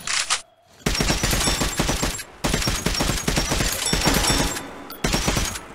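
Gunfire in Metro: Last Light, long rapid automatic bursts of dense, loud shots broken by brief pauses, with a short gap near the start and a final burst at the end.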